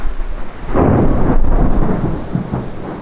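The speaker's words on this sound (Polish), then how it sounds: "Właśnie walnął piorun." A loud thunderclap booms and rumbles during a heavy rainstorm near an old cylindrical furnace building on a Swedish hiking trail, with steady rain hiss around it.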